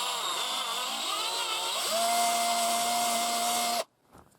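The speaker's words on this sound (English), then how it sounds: "now it's a better operated drill" A power drill with a 5mm bit whirs steadily up close, widening a drone propeller hole, its motor pitch rising to a higher sustained whine before cutting off abruptly.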